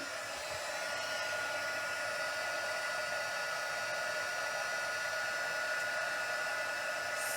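A heat embossing tool blows hot air over a paper card-making project, giving a steady, close, hair-dryer-like whoosh with a constant fan whine that stays unbroken throughout.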